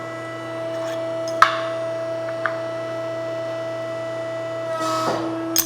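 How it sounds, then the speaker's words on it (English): A hydraulic frame rail bender extends its mandrel with a steady, even hum throughout, broken by a sharp metallic knock near the start and a second clank toward the end. "Extend the mandrel."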